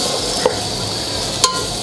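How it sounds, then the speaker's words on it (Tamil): Two large onions sizzling in melted ghee, a steady bright frying hiss close up, with two short stirring scrapes breaking through. "அந்த நெய் வந்து மெல்ட் ஆன உடனே நான் ஒரு 2 பெரிய வெங்காயத்தை அப்படியே ஆட் பண்ணிக்கோங்க"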